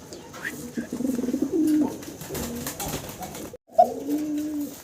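A fancy pigeon coos close by in low, rolling phrases, pausing briefly before cooing again, with a voice speaking in the background.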